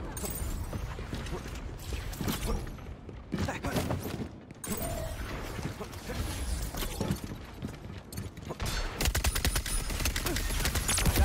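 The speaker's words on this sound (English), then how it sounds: "Oh, I'm getting shot, I think." Gunfire in the video game Concord, bursts of rapid automatic fire and sharp mechanical clatter crackling across a busy firefight, dense and continuous with denser volleys near the end.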